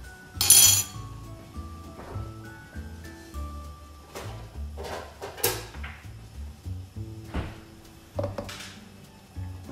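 A utensil clinks and scrapes against a pan while rice-flour batter for es pisang ijo is stirred, producing irregular close metallic taps and knocks with no talk.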